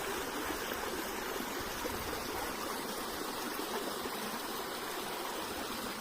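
A natural waterfall stream in Italy pours steadily and fairly close, a dense, even wash of rushing water that holds without a break throughout, with no voices.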